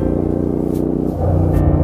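A Royal Enfield Interceptor 650 motorcycle fitted with an aftermarket muffler rumbles loudly and steadily from its exhaust while being ridden, its pitch shifting briefly partway through, with no talking.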